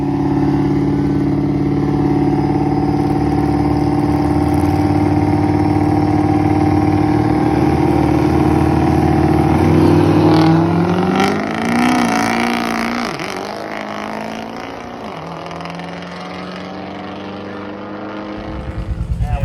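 A built Ford Powerstroke diesel truck at a drag strip, a loud steady engine drone that rises, then fades as the truck pulls away into the distance.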